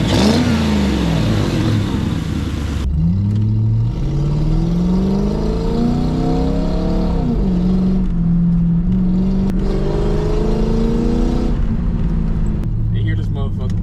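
Lexus SC400 with a 1UZ V8 engine revving up and down repeatedly, loud and close, with the pitch rising and falling in several sweeps and a voice talking over it.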